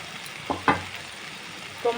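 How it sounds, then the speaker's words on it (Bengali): Chopped tomato goes into a pan of frying lote fish curry and gets stirred, a steady soft sizzle broken by a few scraping stirs of the spoon against the pan. "টমেটোটা দিয়েও আমি এইভাবে নাড়াচাড়া করব।"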